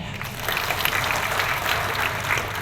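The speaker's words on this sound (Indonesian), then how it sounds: "Tepuk tangan saya." Brief, steady applause from a church congregation during a New Year's sermon, dense clapping that holds at an even level.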